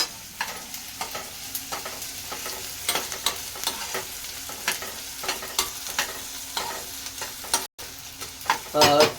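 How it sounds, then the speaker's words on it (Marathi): Onion and garlic stir-fried in a pan for drumstick-leaf bhaji, a steady sizzle broken by frequent rhythmic spatula scrapes and taps, with one brief dropout and a louder rattle at the end. "कांदा लाल होईपर्यंत परतून घेणार आहेस का थोडासा नरम एकदम करपून टाकायचा नाही"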